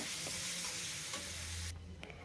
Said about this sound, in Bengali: এবার সর্ষে বাটা নুন হলুদ আর কিন্তু একটু লঙ্কার গুঁড়ো দিয়ে একটু ভেজে নেব